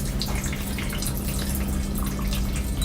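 A dishwasher runs its drain cycle, pushing water through the air gap after a large chunk of food was caught. The result is a steady, continuous rush of flowing water with no pauses and no voices.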